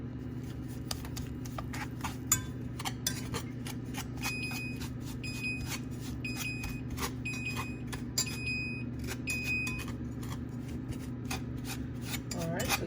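A spoon repeatedly scraping and rubbing inside a pot as butter and brown sugar melt together, steady rhythmic strokes over a low constant hum.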